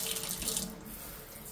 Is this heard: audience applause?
no